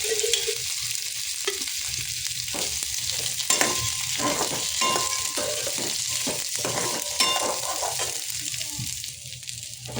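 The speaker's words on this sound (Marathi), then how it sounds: "आपण गोल्डन फ्राय होईपर्यंत भाजून घेऊया." Onion fries in a spoonful of oil in a pan while being stirred, giving a steady close sizzle broken by repeated scraping strokes; the sizzle eases slightly near the end, with no talk.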